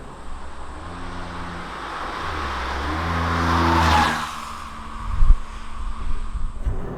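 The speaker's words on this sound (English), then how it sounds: "right now we're driving on the highway with new Kia Picanto" A 2021 Kia Picanto's engine drones steadily at highway speed with wind rushing past, then the engine note fades, leaving road rumble and a few thumps.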